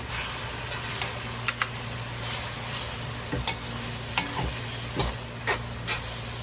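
Egg being stirred into half-cooked carrots in a frying pan, a soft steady sizzle with several sharp utensil scrapes and clacks against the pan, close and alone with no talking.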